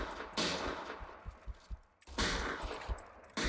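Sniper rifle shots in a shooting video game during a demolition match on a luxury villa map: two loud, sharp blasts, each followed by a dense burst of rattling impacts, with softer thuds in between.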